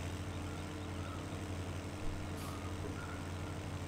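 Dirty tractor driving in a farming video game, viewed from the cab, a steady low engine drone with a constant hum, close and even throughout, without speech.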